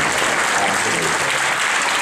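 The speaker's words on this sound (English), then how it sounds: "yes, big round of applause." Loud, close, continuous applause from an audience at a talk, a dense wash of many hands clapping without pause and no speech on top.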